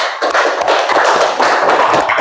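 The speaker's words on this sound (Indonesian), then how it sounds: "Oke, tepuk tangan." A group of elementary school pupils claps together in a classroom, a dense, steady burst of applause lasting a couple of seconds, loud and close, with no talking.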